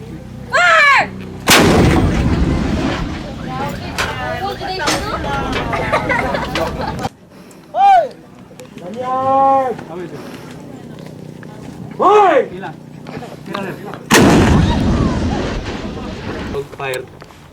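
Artillery guns fire in loud, booming blasts at the start and again near the end, with shouted commands and voices from a crew between the shots during a counter-insurgency operation in Misamis Occidental.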